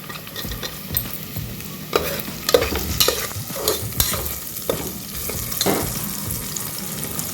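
Diced potatoes fry in a pan for vegetable khichdi, a steady soft sizzle broken by repeated scraping stirs of a spoon against the pan, close by and with no talking.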